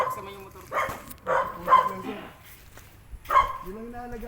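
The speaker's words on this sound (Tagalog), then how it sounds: "Maingay yung aso." A dog barks noisily in several loud bursts around a bonsai garden in Angono, close by, with people talking over and between the barks.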